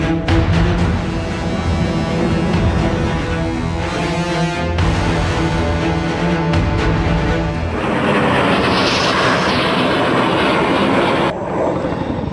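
Indian Air Force fighter jets roar through air show stunts over Dal Lake in Srinagar, a loud continuous engine rush with a rising, sweeping whine near the end and no speech.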